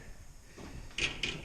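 A bathroom pocket door with soft-close hardware slides shut, a low rolling glide followed by two muffled, cushioned bumps as it eases closed, quiet and close.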